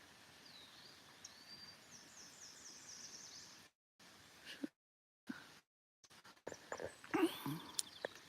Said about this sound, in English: Oven bird.